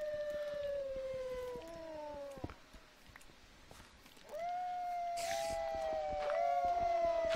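Wolves in the Minecraft mod Better Than Wolves howl in long sustained tones, several overlapping voices sliding and fading, then a fresh chorus rising loudly, with no talk.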